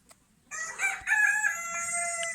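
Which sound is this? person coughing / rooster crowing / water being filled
rooster crowing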